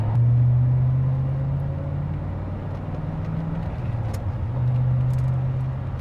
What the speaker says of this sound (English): I will say there is a lot of wind noise.